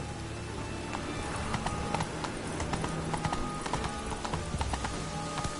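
Roach, the horse in The Witcher video game, gallops with a steady, rapid clip-clop of hooves, moderately loud and continuous over a faint ambient bed, with no voices.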